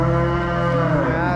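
A cow lowing during calving, a long, loud, sustained moo with a strong harmonic tone, close by and alone without talk.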